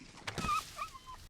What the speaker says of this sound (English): The dog then loses its shit and runs off into the woods